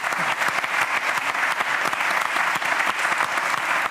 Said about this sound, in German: Sie haben jeden Beifall verdient.